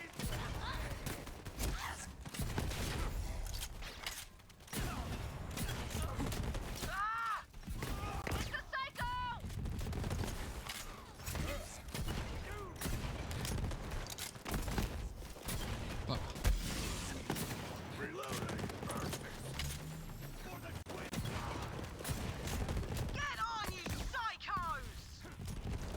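Torgue guns firing in the Borderlands 3 video game: sustained rapid bursts of gunfire and mechanical clatter, loud and continuous, with a player talking over the action.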